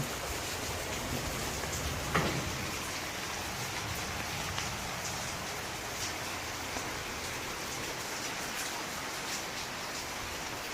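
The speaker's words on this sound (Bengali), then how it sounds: "এখন সকাল সকাল প্রার্থনার পর প্রচণ্ড বৃষ্টি শুরু হয়েছে" Heavy morning rain pours down in Balasore district, Odisha, a dense, even hiss of drops on surfaces that holds steady for the whole stretch, with one faint knock partway through.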